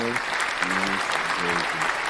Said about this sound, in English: Ladies and gentlemen, a round of applause for this absolute menace.